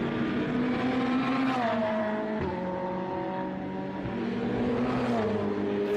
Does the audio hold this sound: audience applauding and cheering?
no